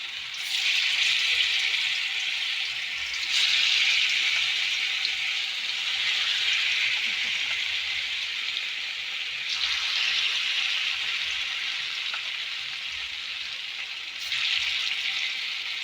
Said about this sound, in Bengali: তারপর এক এক করে পনিরগুলো সব ভেজে নেব